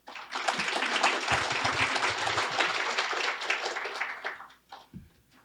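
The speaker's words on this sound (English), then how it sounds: "please let's give a warm round of applause and welcome to Drew Schlossberg." Audience applause welcoming a speaker onto the stage at a college career pathways summit: a sustained burst of clapping across the room for about four seconds, then fading out with a brief last patter.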